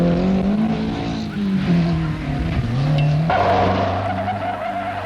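Rally car 62 slides through a troublesome corner at a 1978 safari park rally, its engine droning loud and close with a tonal sweep as the tyres scrub, then a sharp shift to a higher, harder engine note.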